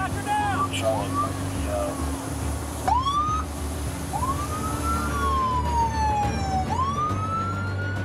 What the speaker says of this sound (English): We tried getting him to stop with lights and sirens.